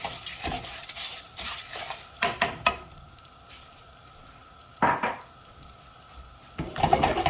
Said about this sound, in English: And we're gonna get this rice nice and golden brown, toasty